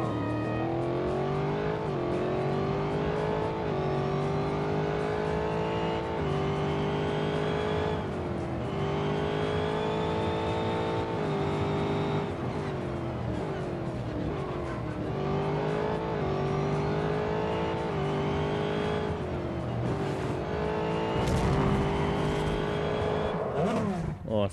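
An Aston Martin Vantage GTE races in Real Racing 3, its engine note rising and falling through repeated gear changes and revs, loud and continuous.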